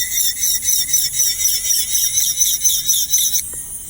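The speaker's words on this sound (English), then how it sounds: "A little extra filing." Hand file on acrylic nails: fast, rhythmic back-and-forth rasping strokes with a bright, squealing edge, close and steady for a few seconds before stopping abruptly.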